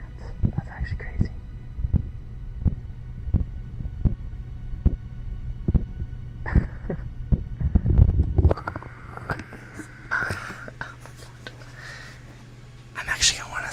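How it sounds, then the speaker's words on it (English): A human pulse picked up through cupped hands beats as soft, regular low thumps near the microphone in an intimate ASMR setting, broken midway and near the end by rustling, handling noise and quiet breathy sounds. "you guys can hear my heartbeat. That actually gives me an idea. That's my pulse going through my hands."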